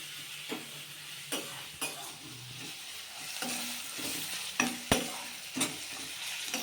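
Onions sizzle with salt in a pan for chicken curry, a steady frying hiss broken by repeated scraping stirs of a spoon against the pan, close and clear, with no talking.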